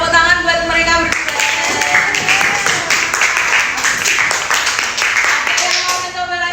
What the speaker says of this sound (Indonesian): Tepuk tangan buat mereka berdua.